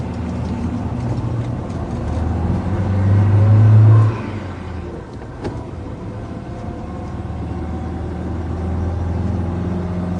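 A car pulls away for a radio drama sound effect, its engine revving up into a loud surge and then settling into a steady driving rumble, heard alone without voices.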